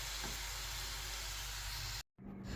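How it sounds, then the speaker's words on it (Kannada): Onions fry in a pan for biryani with a soft, steady hiss of oil that cuts off abruptly near the end. "ಇದು ಆನಿಯನ್ ನೋಡಿ ಚೆನ್ನಾಗಿ ಫ್ರೈ ಮಾಡ್ತಾ ಇದ್ದೇನೆ."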